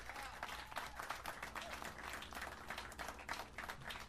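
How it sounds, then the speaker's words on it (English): Audience applause at a jazz concert after a pianist's introduction, a steady wash of many hands clapping at moderate volume, fairly distant, sustained throughout with no break. "Big round of applause."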